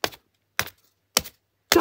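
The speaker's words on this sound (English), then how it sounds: "Now, let's destroy it with the scissors." Scissors cutting into a DVD disc: four separate sharp snips or crunches, evenly spaced about half a second apart, close and distinct with silence between them.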